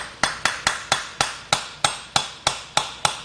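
A hammer strikes a punch to drive the seized turbine wheel out of the compressor wheel of a Case CX80 excavator turbocharger, a dozen sharp metallic blows in an even, steady rhythm, loud and close.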